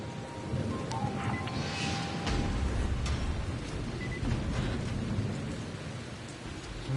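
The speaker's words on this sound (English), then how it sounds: "We're doing this in the rain." Steady, heavy rain pours continuously in the video game Dying Light, with low thunder rumbling underneath throughout; no voices.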